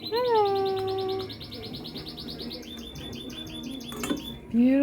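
A pet bird in a bird store gives clear whistles and quick repeated chirps, close and bright, with quieter store noise behind.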